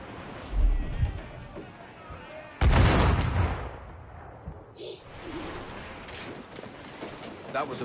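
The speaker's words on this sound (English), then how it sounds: "All hands to cannons." Ship cannon fire in the pirate video game Assassin's Creed 4 Black Flag, two heavy booming blasts a couple of seconds apart over game ambience, with faint later thuds.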